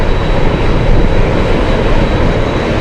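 Loud, steady roar of Boeing C-17 military cargo jet engines at Anchorage airport in gusty wind, broadband and continuous without a break, no voices.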